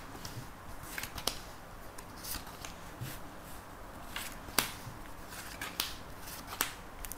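Tarot cards handled for a reading, with soft papery shuffles and crisp snapping flicks recurring every second or so, quiet and close, no voices.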